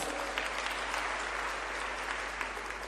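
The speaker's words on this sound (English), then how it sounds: "Can we give that a round of applause?" Steady, dense applause from a large summit audience rewarding competition runners-up, a continuous wash of many hands clapping at moderate level with no pauses, heard alone without speech.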